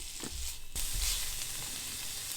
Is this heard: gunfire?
no